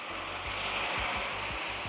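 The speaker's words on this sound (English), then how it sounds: "I'm going to slowly add my hot water here." Hot water poured slowly into a pot while cooking Kopai, a hissing, bubbling rush with low sputtering pulses, close and continuous with no talk.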